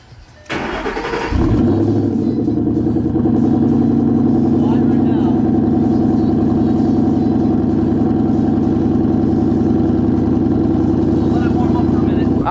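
A car engine with a Corsa Extreme Quads exhaust cranks and fires up at close range, settling into a steady, loud, rumbling idle; voices are heard in the background.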